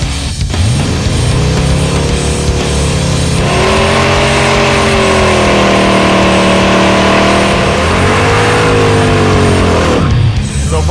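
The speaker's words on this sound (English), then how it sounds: "Let's do a burnout." Jaguar-bodied drag car doing a burnout in a parking lot, its swapped engine roaring loud and close with rising and falling revs, harmonics sweeping up and down before cutting off near the end.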